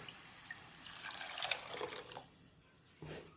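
Water is poured into a pot of vermicelli for vegetable semiya upma, a soft splashing stream that swells and fades, followed by a brief final splash, with no talking.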